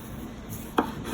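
A knife cuts through a potato on a cutting board, one crisp chop against a quiet background.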